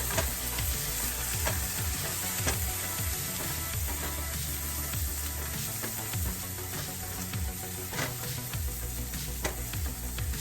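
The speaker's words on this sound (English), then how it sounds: "we're going to add a little bit, about a half of a tablespoon of garlic. I told you I love garlic. And we are going to mix that in." Garlic stirred into a hot, sizzling pan, a steady frying hiss with a spoon scraping and stirring through it in repeated low strokes, fairly quiet and continuous, with no voices.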